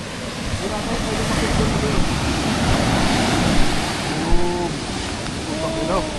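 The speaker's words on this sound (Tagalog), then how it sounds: "Fucking wave." Strong ocean waves crash and churn at Patar beach in Bolinao, a loud continuous roar of surf with wind buffeting the microphone and people talking briefly over it.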